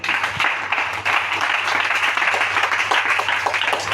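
A church congregation applauds during a service, with steady, dense clapping that continues evenly from start to finish at close range.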